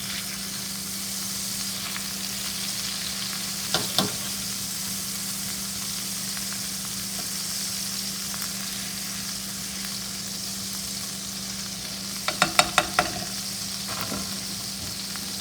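Shrimp burgers fry in a pan with a steady, close sizzle that runs unbroken, broken by a few brief clinks or scrapes of a utensil partway through and near the end.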